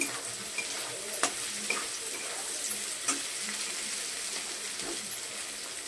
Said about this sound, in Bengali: চিকেন ভাজা আমার কমপ্লিট। সাইডে তেলও ছেড়ে দিয়েছে